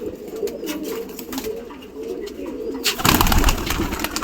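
Pigeons coo softly at close range, then a sudden loud flurry of wingbeats breaks out as birds take off and resettle nearby.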